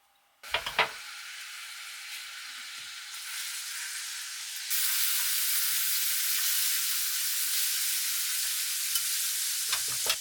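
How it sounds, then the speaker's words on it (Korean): Shallots dropped into a pan of well-heated oil for risotto burst into a loud, close sizzle that swells partway through and then holds steady as a dense, unbroken hiss, with a few faint knocks over it and no talk. "그 다음 샬롯을 먼저 넣고 볶아줍니다."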